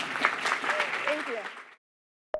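Brief applause from a conference audience after a talk on SEO and branding, a short burst of clapping with voices mixed in that stops abruptly, followed by a single clipped sound.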